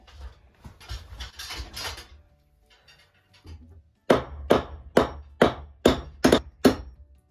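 Seven or eight sharp metallic hammer blows on a threaded rod ring out in a steady rhythm, close by, after a stretch of quieter shuffling and handling noises.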